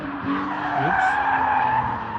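A drift car's tires squeal and skid in a sustained screech as it slides off the track, heard from a moderate distance over engine noise, with no speech.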